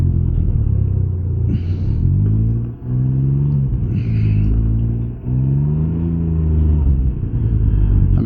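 A Can-Am Ryker three-wheel motorcycle, freshly repaired, rides along with a steady low engine rumble that climbs in pitch through several gear pulls, dipping briefly at each shift, loud and close with wind noise.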